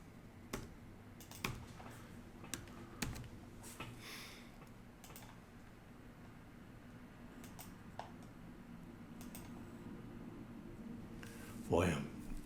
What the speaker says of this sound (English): I'm really having a struggle here with my typing, evidently.